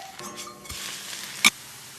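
Food sizzling steadily in oil in a pan over medium-low heat just after being flipped golden side up, a continuous close hiss with a brief sharp clink partway through.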